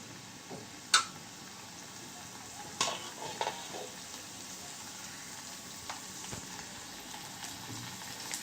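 Ginger pieces, cumin, curry leaves and coriander are tempered in hot ghee in a wok, giving a faint, steady sizzle with a few sharp crackles and pops near the start.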